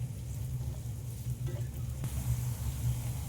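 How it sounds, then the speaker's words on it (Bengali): Chopped onions frying in a pan for a prawn malai curry, a steady close sizzle with faint stirring scrapes, continuous and even with no talking. "পেঁয়াজটা দিয়ে আমি ভালো করে ভেজে নেব"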